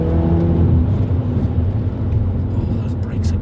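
Mini GP3 hot hatch lapping a race track, its engine droning steadily and loud throughout, with tyre and wind noise layered over it.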